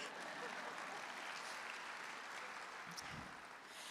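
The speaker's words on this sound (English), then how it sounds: "You can applaud for that." An audience applauding at a comedy show, a steady crackling wash of clapping heard faintly and somewhat distant, with a brief low murmur near the end.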